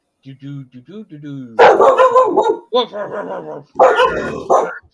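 Dogs bark, yip and growl loudly and close up, mixed with whining and excited vocal noises in quick, irregular bursts.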